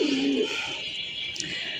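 A domestic pigeon gives a short, soft coo at the start, faint and close, followed by quiet background hiss.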